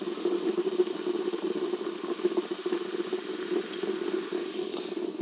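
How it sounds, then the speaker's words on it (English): Carbonated lemon water pours steadily into a glass, a soft continuous fizzing stream at close range with no talking. "you open this carbonated water lemon and you pour it into this glass"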